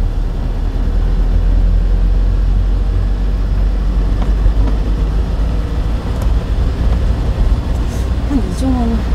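Low steady engine hum and road rumble from a manual car being driven during a lesson, heard from inside the cabin with no clear rise in revs, and a voice speaking briefly.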